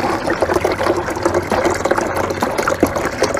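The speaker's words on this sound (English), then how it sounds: "I'm just going to pour water in." Water pours steadily from Aquafina plastic bottles into a portable ice maker in an RV, a continuous gushing, splashing fill that sounds close and fairly loud with no talking.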